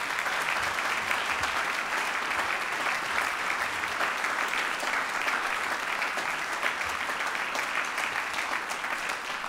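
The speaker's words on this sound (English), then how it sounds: "So give them a round of applause." Steady, sustained applause from a large audience, dense clapping at an even level throughout.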